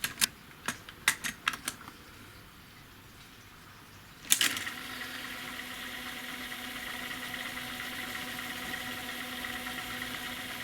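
A Sharp VZ-2500E cassette deck starts with a few sharp mechanical clicks, then after a louder clunk settles into a steady, close rewind whir that runs on alone.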